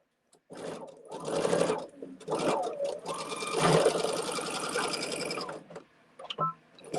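A sewing machine stitches quilt blocks in bursts, its rapid needle chatter running close and clear between short pauses, with a brief stop and restart near the end.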